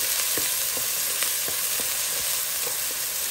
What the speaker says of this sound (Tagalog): So, saute lang natin konti yung onion.